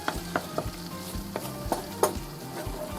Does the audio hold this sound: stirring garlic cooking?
yes